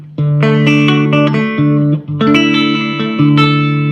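Electric guitar through a Mesa Boogie Mark III amplifier plays loud, clean, sustained melodic notes in two phrases with a brief pause between, bright and sparkly with no distortion and no talk.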